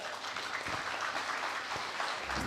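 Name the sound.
audience applause for a forum panel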